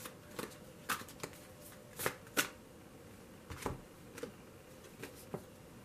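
Tarot cards are shuffled close by in quiet, irregular riffles and soft slaps, each burst short and crisp over a low background hiss.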